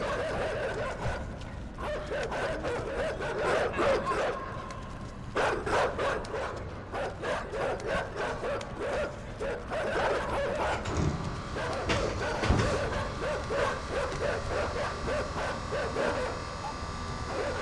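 Dogs bark in the video game Inside, a rapid series of sharp, loud barks and yips that comes in repeated bursts with brief gaps, over a mechanical background rumble.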